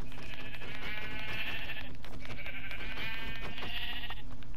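Sheep in a video game bleat twice in long, wavering calls, each lasting about two seconds, close and clear over a steady low background hum.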